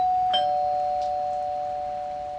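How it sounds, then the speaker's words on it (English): A single doorbell chime rings out clearly, its tone ringing on and slowly fading over a couple of seconds, with nothing else around it. "The doorbell rang."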